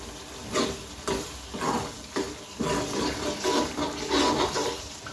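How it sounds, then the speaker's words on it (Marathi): Masala frying in oil for a spicy Ravas fish curry: a moist, bubbling sizzle with soft stirring sounds that swell and fade unevenly, close by, with no talking. "मसाला फ्राय झाला पाहिजे तेलात चांगला।"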